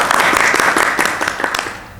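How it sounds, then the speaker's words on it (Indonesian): An audience at a podcast recording applauds for a girl who is a pencak silat student, giving dense, steady clapping that fills the clip and fades slightly near the end. "Tepuk tangan dong buat Sri Kandi kita."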